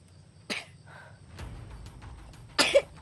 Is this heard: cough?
yes